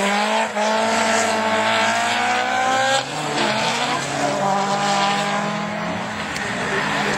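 A Honda rallycross car races downhill at a French championship round, its engine roaring loud and close with rising and falling revs. Brief tire noise is heard and an announcer talks over it.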